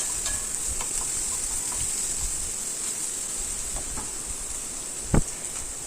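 Vegetables fry in a pan for Maggi noodles with a steady, close sizzle and hiss as they are stirred, soft scraping throughout and one sharp clank of the utensil near the end.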